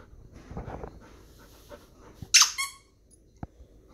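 A dog pants softly in a room, then lets out a sharp, loud squeak-like whine near the middle, followed by a brief faint tap.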